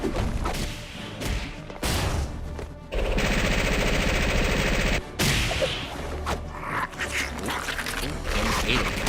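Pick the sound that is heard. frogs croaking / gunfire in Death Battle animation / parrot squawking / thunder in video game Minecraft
gunfire in Death Battle animation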